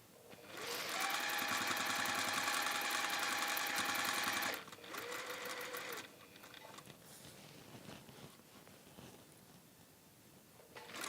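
Domestic sewing machine running close and loud, stitching seam to seam on a waxed-base drawstring caddy, one long steady burst then a shorter run, followed by quieter rustling and handling of the fabric.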